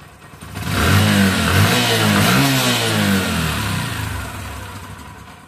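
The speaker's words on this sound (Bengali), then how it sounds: "লাগানোর পরে আমরা দেখবো যে বাইকটির সাউন্ড কেমন হলো" A Bajaj Discover 125 cc motorcycle engine, freshly refitted with its head cover after rocker adjustment, idles briefly and then revs up loud and close, holding a strong steady roar before easing slightly, with no talk over it.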